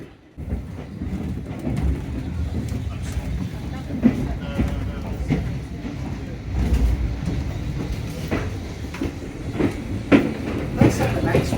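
A heritage steam train on the Ecclesbourne Valley Railway rumbles steadily along from inside the carriage, with a continuous low clatter of wheels on track and occasional sharper knocks, while people talk over it.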